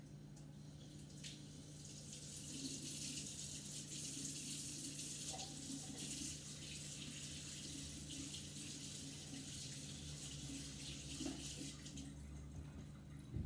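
Water runs steadily from a kitchen tap into a sink while a dish is washed up during mug-cake baking, a continuous, fairly close rushing and splashing with no talk over it.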